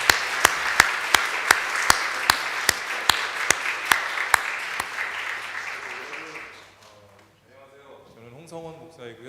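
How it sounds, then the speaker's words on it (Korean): A church congregation at a Sunday worship service claps in steady applause for about six seconds to welcome performers coming forward, then it fades and a voice begins talking. "앞으로 나올 때 박수로 격려하시면 어떨까요?"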